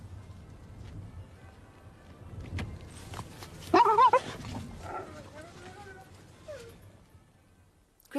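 A dog out on a Sunday morning stroll gives a short burst of barks and whimpering yips near the middle, set against a quiet outdoor background with some human voice.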